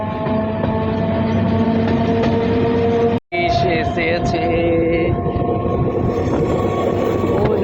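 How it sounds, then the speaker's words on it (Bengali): A MEMU train runs through sal forest on the Masagram–Bankura line, its motors and wheels giving a continuous loud rumble with steady whining tones, briefly interrupted once, while passengers talk over it. "আমাদের ট্রেন ছেড়ে দিল"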